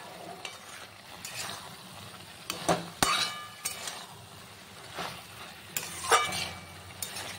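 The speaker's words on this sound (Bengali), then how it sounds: "এরকম সমস্ত সবজিগুলো ঘুটে দিয়ে এরকম করে নামিয়েছি" Stirring vegetables for a Bengali pui shak chorchori with bori in a kadai, giving intermittent scraping clinks of utensil against metal. Two sharper clanks cut through a low, steady background hiss.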